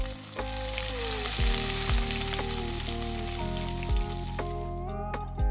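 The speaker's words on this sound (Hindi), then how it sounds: "प्याज को फ्राई करते हैं।" Chopped onions fry with cumin in a pan, making a steady, close sizzle with occasional soft stirring clicks.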